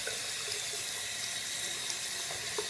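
Tap water runs steadily into a sink while a makeup brush is rinsed under it, a constant close hiss of flowing water with faint small splashes and no speech.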